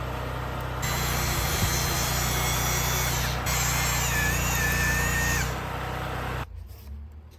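A corded power drill with a Jacobs chuck bores into a large organic cedar post, whining steadily at high speed for several seconds with a brief dip midway, then winding down and stopping.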